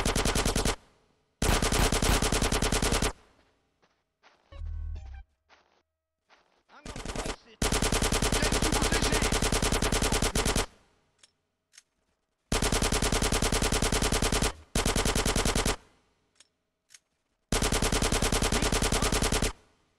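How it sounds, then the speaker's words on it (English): Gunfire in GTA San Andreas during a firefight with police, loud sustained automatic bursts of several seconds each, separated by short gaps with a few scattered single shots and thuds. "Get some suppressing fire in there!"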